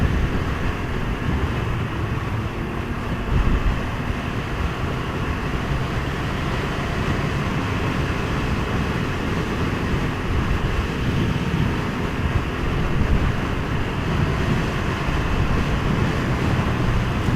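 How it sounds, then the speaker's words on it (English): Wind buffets a rider on a 2019 Can-Am Ryker 900cc three-wheeler, a dense continuous roar of rushing air mixed with road and engine noise, steady and loud for the whole stretch with no voices. "The wind buffeting, it's not bad at all."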